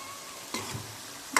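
Fried soya chunks and potatoes being stirred into a simmering curry, with two short bursts of spoon scraping and sizzling against a quiet background, the second louder and near.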